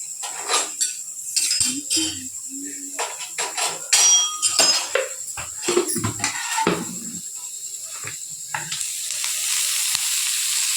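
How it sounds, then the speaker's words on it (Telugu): Oil heats in a pan for an onion omelette, with pan and utensil clatter and knocks at first, then a steady sizzle that builds toward the end. "ఇప్పుడు ఇందులోనే కొంచెం మనం ఆయిల్ పోసుకుందాం"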